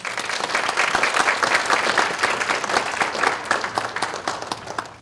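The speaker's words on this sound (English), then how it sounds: "With open hearts and a warm round of applause, please help me as I now present to some and introduce to others Dr." Steady audience applause fills a lecture hall as a speaker is introduced for a talk on spiritual and psychological decline, dense clapping sustained at an even level throughout.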